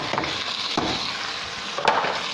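Celery, onion, bacon and peas sizzle and crackle steadily in a hot frying pan, with a few louder stirring scrapes and clatters from a spoon throughout.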